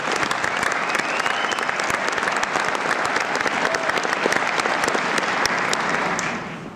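A crowd at an NYPD graduation ceremony breaks into steady, dense applause that holds evenly for several seconds before tapering off at the end.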